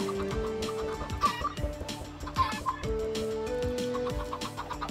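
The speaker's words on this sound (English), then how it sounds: "See how many chickens are here" Chickens in the Minecraft video game cluck repeatedly in short, overlapping bursts over steady game music, with no one talking.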